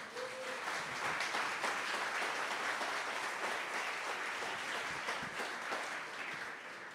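A crowd applauds steadily, a dense, even wash of clapping that holds for several seconds without voices.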